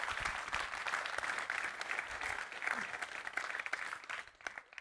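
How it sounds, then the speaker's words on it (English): A conference audience applauds at a pinewood conservation event, dense sustained clapping from a large crowd at moderate distance, tapering off toward the end. "Thomas deserves a round of applause for what he's done in Glenfeshie."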